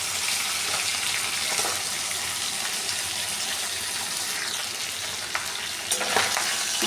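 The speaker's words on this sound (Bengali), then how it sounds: "আমি উল্টে পাল্টে নিয়ে মাছের মাথাগুলোকে ভেজে নিচ্ছি" Fish heads fry in hot oil in a pan, giving a loud, continuous close-up crackle and hiss, with a few sharper knocks as they are turned and broken up, no talking.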